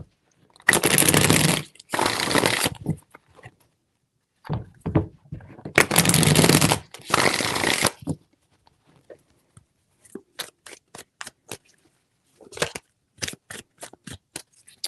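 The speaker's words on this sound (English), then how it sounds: "Three shuffles." Tarot cards are shuffled by hand in three bursts of riffling and sliding, each lasting a second or two, followed by scattered soft taps and card clicks in a quiet room.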